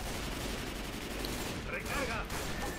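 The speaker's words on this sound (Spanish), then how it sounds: "Disparos." Rapid gunfire from the zombie shooter game Left 4 Dead 2 crackles in a dense, continuous barrage, loud and busy throughout with no clear gaps.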